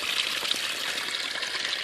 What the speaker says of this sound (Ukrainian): І дивіться, як б'є вода